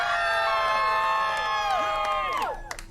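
The crowd at a rap battle yells and whoops in support of a contestant, many voices shouting and cheering together. The noise holds loud and sustained, then drops off sharply near the end.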